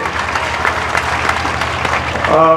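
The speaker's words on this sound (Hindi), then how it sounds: "सभी लोग जोर से तालियां बजाइए" Students at a school event with a police DSP applaud together, producing a short burst of steady clapping with a low hum underneath, ending as a voice begins to speak.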